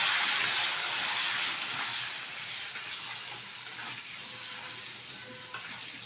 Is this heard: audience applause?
no